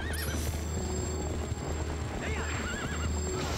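A horse in Twilight Princess whinnies twice over steady clip-clopping hooves, set against a busy in-game score, with no talk.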